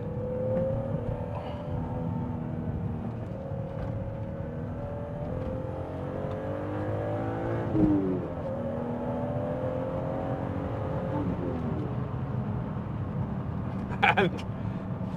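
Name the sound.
BMW Z3M Coupe straight-six engine revving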